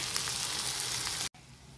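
Onion, tomato and spices fry in oil with a dense, loud, close sizzle that runs steadily, then cuts off abruptly into a quieter sizzle.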